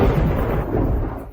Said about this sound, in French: Pourquoi y a-t-il soudainement du tonnerre?